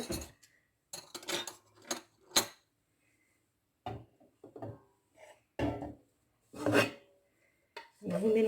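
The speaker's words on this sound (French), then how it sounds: "Vous mélangez bien pour que la moutarde soit bien imprégnée avec la crème fraîche." A spoon stirs mustard into crème fraîche sauce over chicken in a home kitchen, producing close, intermittent rasping scrapes and rubs against the dish, separated by short silences.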